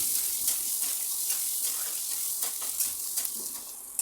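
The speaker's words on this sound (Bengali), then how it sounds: "তারপরে চানা ডালটাও দিয়ে দেব। আবার এগুলোকে ভালোভাবে ভেজে নেব।" Garlic and chana dal frying in oil in a pan, a steady loud crackling sizzle with soft stirring scrapes woven through, continuous and close, with no talking.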